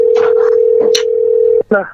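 A steady telephone line tone hums while a call is being placed, running unbroken for most of the moment beneath a voice before cutting off abruptly, after which speech continues.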